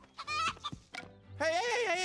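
Animated chickens clucking and squawking in a film scene, a few short agitated calls followed by a louder, longer warbling cackle, close and clear with no speech.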